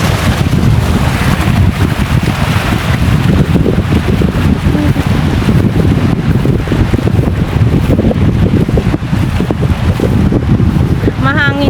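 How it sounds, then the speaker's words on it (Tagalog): Strong wind buffets the microphone without letup at a seaside spot in Qatar, a loud steady roar with low rumbling gusts and faint background noise throughout. "Mahangin guys."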